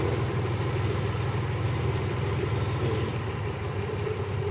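A car engine idles steadily and evenly close by, a continuous low rumble with mechanical vibration during a cylinder balance check with plug wires being pulled off, probably after an injector problem; no one speaks.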